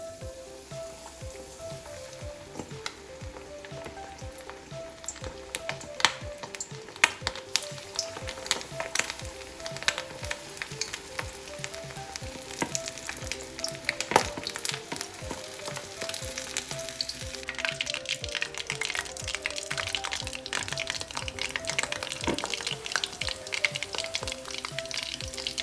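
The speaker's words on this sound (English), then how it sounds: "Right, time to fry them." Chicken pieces fry in hot sunflower oil in a pan, two at a time, over low to medium heat, giving a steady close sizzle and crackle with popping spikes that grows busier toward the end.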